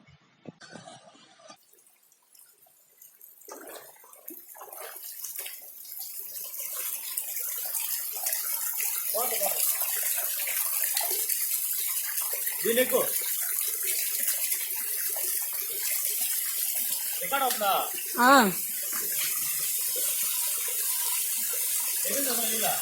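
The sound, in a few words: water gushing from under rocks at Bhairavakona waterfall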